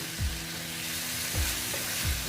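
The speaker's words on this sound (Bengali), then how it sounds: "এঁচড়গুলো দিয়ে দিচ্ছি দিয়ে আমি এটা কষিয়ে নিচ্ছি" Young jackfruit chunks fry and are worked around a pan, giving a steady close sizzle broken by three scraping spatula strokes at a roughly even pace.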